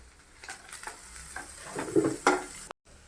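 Butter sweet corn seasoned with pepper powder and chaat masala being stirred in a pan, a soft scraping and light sizzle rising toward the end before a brief cutoff.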